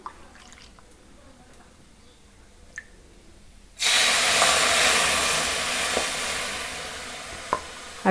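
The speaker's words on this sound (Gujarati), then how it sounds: "હવે આપણે આમાં દૂધ નાખી દઈશું।" Two cups of milk poured over bread roasted in ghee for bread halwa, setting off a sudden loud, steady sizzle and hiss after a quiet start, with a few faint clinks.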